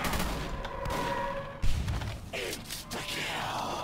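Sniper shots fired at zombies in a Roblox game, a few sharp cracks and bursts over a busy mechanical game din, one standing out louder than the rest.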